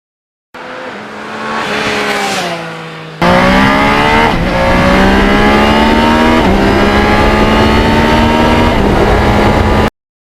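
A 1977 Yamaha RD400 two-stroke motorcycle in Kenny Roberts replica trim, engine loud and close, revving in rising sweeps with a brief drop before a sharp surge into sustained high-rev acceleration with shifting pitch.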